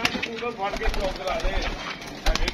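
Pigeons coo in soft, wavering bursts nearby, with a murmur of voices and scattered background noise underneath.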